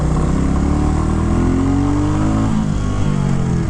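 Royal Enfield Classic 350 single-cylinder motorcycle running steadily while being ridden, a loud continuous engine drone with rising pitch as it accelerates, close by and with no talking.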